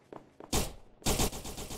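Two loud bursts of rapid gunshots in the heist game Perfect Heist 2, close and sharp, separated by a short gap and following a couple of faint softer taps.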